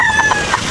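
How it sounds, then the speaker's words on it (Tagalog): A chicken crossing a road in Bulacan gives a short, loud, close burst of clucking, with a few quick, rough calls packed into under a second and no voices. "Ay, manok. Tumawid yung manok."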